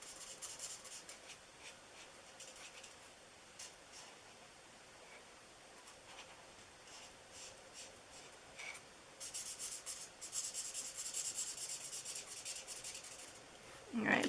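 A marker nub rubbing across paper while colouring a small stamped image, a soft steady scratchy hiss with short strokes, close and quiet, growing a bit brighter and busier toward the end.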